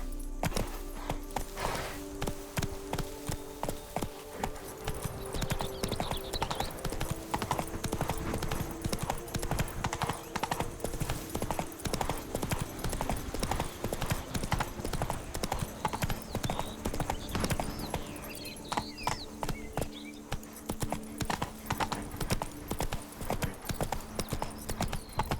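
The horse Roach gallops in The Witcher 3 video game, with fast rhythmic hoofbeats running continuously under game music and ambience, and an occasional whinny.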